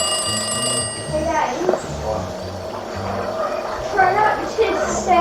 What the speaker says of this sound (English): The green phones can sometimes be heard ringing, followed by what is assumed to be an Octoling or Octoling speaking